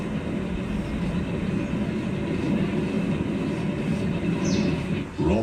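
A Big Boy steam train slows downhill on heated brake shoes, a steady loud rumble of rolling railcars with faint clatter and no voices.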